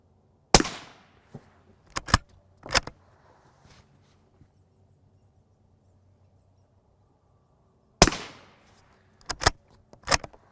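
Sharp, loud rifle shots strike armor plates at an outdoor range, arriving in two clusters of several cracks each, separated by long quiet stretches.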